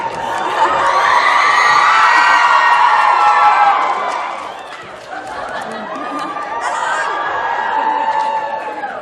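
A live crowd at a TwitchCon community-building panel cheers loudly and steadily, with whoops and excited shouting, swelling for several seconds, dipping briefly, then rising again.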